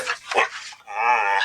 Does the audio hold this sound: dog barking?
yes